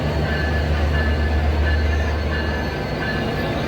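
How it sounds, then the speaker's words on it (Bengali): A crowded holiday passenger train pulls into a station, a loud, steady low rumble of rolling rail cars with a faint metallic whine throughout, close by and without talk. "ট্রেন আসলো"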